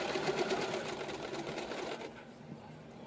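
A sewing machine stitches fabric for a pair of pants with a close, steady mechanical whirring that slows and stops near the end.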